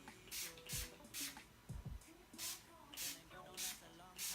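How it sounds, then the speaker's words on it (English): Quiet, rhythmic hissing bursts of a fine face mist spray, repeated about seven times at a steady pace. Soft handling noises sit between the sprays. "First I'm going to spray my face with the Mario spray."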